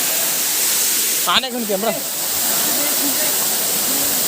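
A waterfall at Turridham pours as a constant broadband roar, loud and close throughout, while someone briefly speaks over it.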